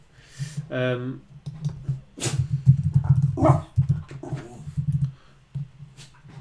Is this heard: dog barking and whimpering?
yes